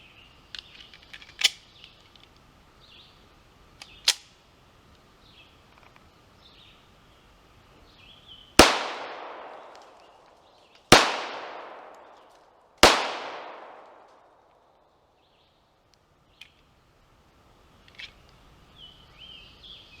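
Three sharp, loud pistol shots from a Tisas Raider firing S&B ammunition, unevenly spaced with echoing tails, among a few fainter clicks and snaps in an otherwise quiet outdoor setting.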